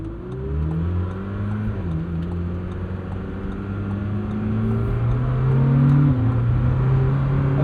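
A 2026 Lamborghini Temerario, 907 hp, accelerates hard in Sport automatic, its engine note climbing steadily while the 8-speed dual-clutch gearbox snaps through abrupt, harsh upshifts. The sound is loud, close and continuous, with no talking.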